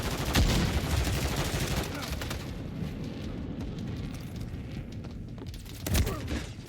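Sniper rifle gunfire in the Call of Duty Modern Warfare 3 video game, a loud sharp shot near the start and another near the end over a dense, steady wash of battle noise.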